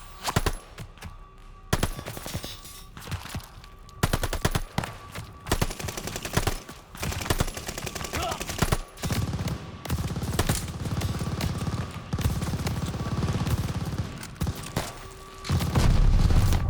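Enemy machine gun fire in Call of Duty Vanguard, with dense bursts of rapid gunshots and booming impacts crackling throughout, louder and heavier toward the end, amid constant battlefield noise.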